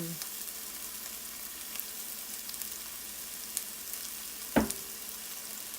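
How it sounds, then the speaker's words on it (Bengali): Chopped onion with a little salt frying gently in a pan makes a faint, steady hiss, with one sharp utensil clank near the end. "এবার পেঁয়াজটা অল্প করে একটু ভেজে নেব।"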